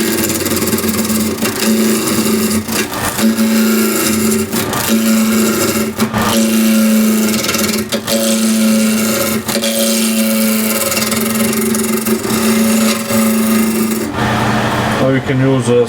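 Green wood spinning on a lathe as a gouge cuts the base of a suction-fit box, giving a steady rasping, humming shear that runs continuously and loud throughout, with a brief change at the end.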